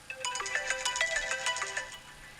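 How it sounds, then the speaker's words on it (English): A phone timer alarm ringtone at a town meeting chirps in a quick repeating melodic pattern of bright tones for a couple of seconds, fairly close and with no one talking over it. "I'm going to use a timer on my telephone"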